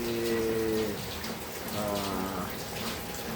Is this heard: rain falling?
yes